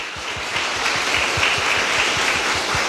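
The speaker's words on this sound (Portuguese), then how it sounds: "Dá uma salva de palmas para o Senhor Jesus" Steady, loud clapping from a church congregation during a Sunday service, with a rhythmic thumping beat underneath, continuing without a break.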